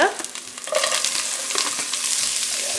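Masala for an Iftar snack is stirred as it fries in a pan, with a close, steady sizzle broken by scraping and rustling stirs.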